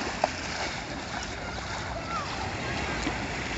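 Gentle waves wash along the sheltered Waikiki beach shoreline in Hawaii at dusk, a steady, continuous surf hiss with some wind rumble against the microphone and no distinct breaking crashes.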